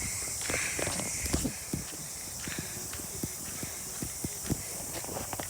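Footsteps splash and slosh one after another through shallow flood water on a flooded rural road, close and fairly quiet, with a steady hiss of flowing water underneath.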